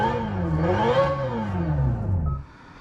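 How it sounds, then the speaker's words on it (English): A 2025 Hyundai Ioniq 5 N plays its simulated engine sound in evolution mode, a loud, close synthetic engine note that rises and falls in pitch like revving before cutting off. "All your different engine sounds."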